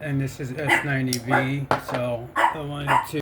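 A dog barking repeatedly indoors at someone arriving at the door, its yips and woofs overlapping with someone talking close to the microphone.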